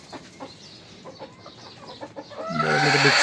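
Chickens in a poultry coop on a house rooftop give scattered soft clucks, then a louder, sustained squawking call near the end, with no talk over them.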